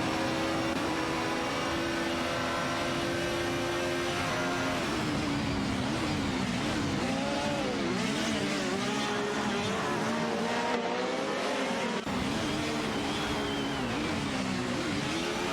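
Race cars in a racing video game scream past in a steady, dense stream of high engine whine, several pitches overlapping and sliding up and down as they shift and accelerate, with no talk.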